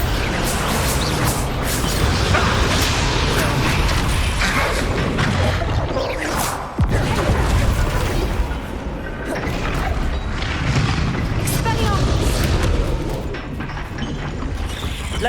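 Bombarda blasting spells exploding in Hogwarts Legacy combat, loud booms and crashing impacts layered with whooshes and game music, repeated bursts throughout.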